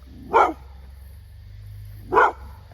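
Two sharp dog barks about two seconds apart, fairly close, over a low steady hum.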